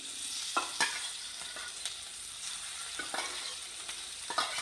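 Moong dal dropping into a hot tempering of curry leaves in oil, a steady close sizzle of frying with occasional sharp stirring scrapes and clicks spaced through the sound.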